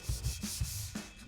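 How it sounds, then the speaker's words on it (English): Hand sanding around a repair on a fiberglass body panel of a classic Chevelle, heard as close, rhythmic rubbing strokes, about five quick passes with short pauses between them. "Then we'll transition it even further by sanding the area around the repair."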